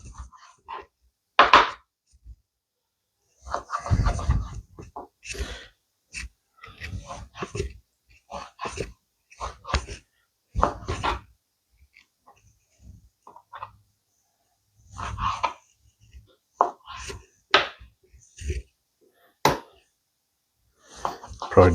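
A knife cutting beef steak into bite-sized cubes on a board, heard as scattered sharp chops and taps in irregular clusters with quiet gaps between them.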